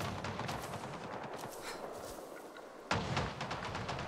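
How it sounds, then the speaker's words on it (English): Gunfire in the video game Avatar: Frontiers of Pandora, rapid bursts of shots heard at moderate distance with a brief lull before a fresh volley. "where's the shooting coming from?"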